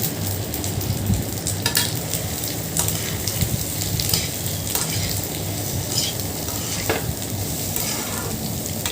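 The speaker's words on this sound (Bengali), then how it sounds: "মাখানো যেই চালটা রেখেছিলাম সেটা ঘিয়ের মধ্যে দিয়ে ভালো করে নাড়াচাড়া দিয়ে হালকা একটু ভেজে নিয়েছিলাম" Rice tossed in hot ghee sizzles and crackles continuously while a spoon scrapes and stirs through it, with occasional sharper clinks against the pan, close and steady.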